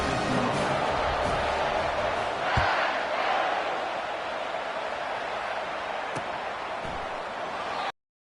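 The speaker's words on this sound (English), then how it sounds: "This crowd, full throat, spreading the eardrums and letting them know it's going to be a long day" Football stadium crowd roaring after a touchdown, a dense sustained roar of thousands of voices with a brief swell near the start and scattered claps, continuing loud until it cuts off abruptly.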